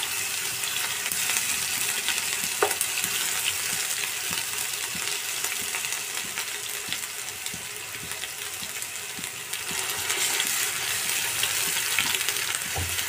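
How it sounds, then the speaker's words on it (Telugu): Onion paste frying in hot oil in a pan for a chicken curry, a loud continuous sizzle with faint stirring clicks throughout, close and steady. "కాస్త పచ్చివాసన పోయేంత వరకు మనం ఈ ఉల్లిపాయల పేస్ట్ని ఆయిల్లో మంచిగా ఫ్రై చేసుకోవాలి."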